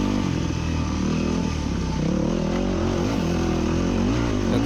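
Enduro dirt bike engine revving steadily while climbing rocks at Sand Hollow bluff, a loud close buzzing drone with slight pitch swells as the throttle and clutch are worked, no talking.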